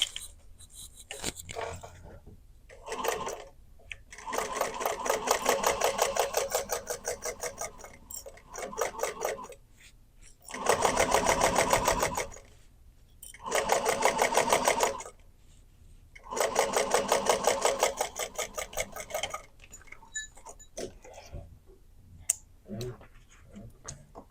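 A sewing machine stitches a fabric clutch in several loud, steady bursts of rapid mechanical ticking, separated by short pauses; no one speaks.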